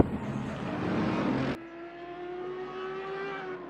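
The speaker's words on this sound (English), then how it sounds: "Those cars come out onto the track" Race cars pulling onto the track during qualifying in Assetto Corsa Competizione at Hungaroring, a loud roaring engine that cuts off abruptly, followed by a steadier, quieter engine drone.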